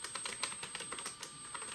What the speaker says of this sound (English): I am typing on the PowerBook